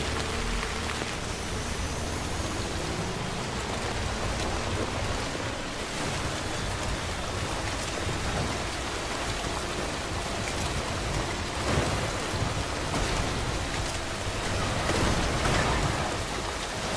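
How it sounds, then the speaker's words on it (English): Heavy rain in the video game Death Stranding, a dense steady downpour hissing across surfaces with scattered drops and faint low rumbles, constant and loud with no talk. "Damn, it's raining like a motherfucker."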